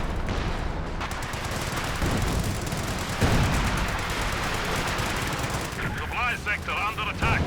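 Dense bursts of rapid gunfire and explosions from a 2v2 Company of Heroes 2 match, including .50 cal machine gun fire, with steady battle noise and a commentator talking over it.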